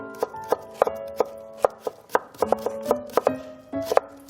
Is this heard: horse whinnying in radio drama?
no